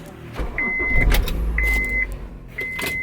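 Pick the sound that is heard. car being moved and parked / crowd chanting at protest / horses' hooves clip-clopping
car being moved and parked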